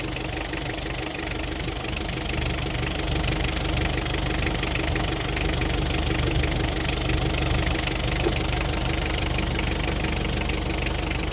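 A car engine runs steadily, loud and close, with a constant rumbling drone and a faint rhythmic knocking throughout, no voices.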